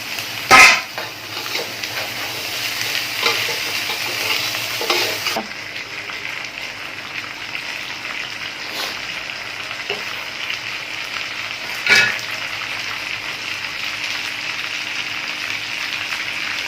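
Fried, deboned snakehead fish is stir-fried in a spicy sauce, a continuous sizzle with scattered spatula clinks against the pan and two sharper knocks, close and even, with no talking.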